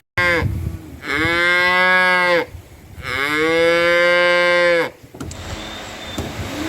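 Cattle in Hanover, Jamaica give two long, loud, close moos, each drawn out for over a second, followed by quieter farmyard background.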